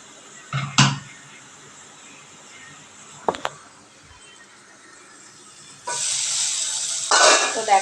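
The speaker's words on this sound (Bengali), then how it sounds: "আর ঠিক এতটা পরিমাণে জল আমি তরকারিতে অ্যাড করব" Water poured into a spiced katla fish curry in a hot pan sets off a sudden loud hiss and crackle after a few quiet clinks and taps, the sizzle swelling and staying strong to the end.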